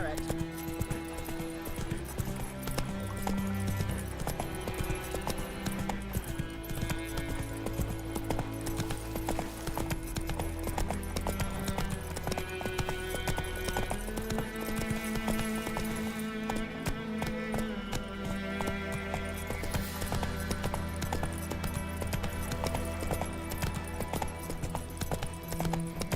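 Hooves of Roach, Geralt's horse in The Witcher 3, clip-clop steadily at a gallop under a continuous bed of game music, with voices talking over it throughout.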